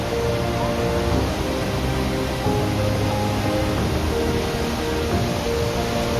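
Powerful waterfall in East Java, Indonesia, a steady, loud broadband rush of falling water that holds evenly throughout with no pauses.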